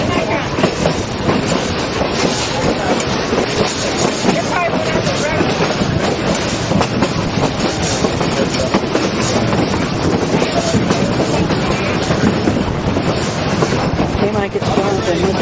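Durango and Silverton railroad train rolling along the tracks, a loud, steady rumble with clickety-clack and wind buffeting throughout, while a voice talks over it at times.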